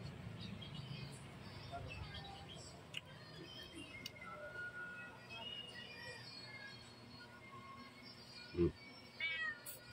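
Two cats meowing and begging for fish beside an outdoor grilled hotdog and milkfish meal, several faint meows scattered through quiet background noise with a few soft bumps.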